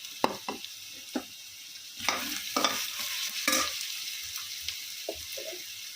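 Sliced onions and drumstick pieces being stirred in a pan for a Telugu drumstick milk curry, with sharp utensil clinks and scrapes against the pan over a soft sizzle, no speech.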